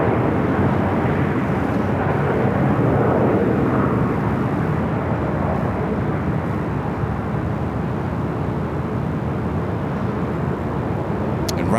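Airliner taking off on runway 25 right at LAX, a loud, continuous engine roar that holds steady and broad throughout, heard from the distance of a nearby hotel rooftop.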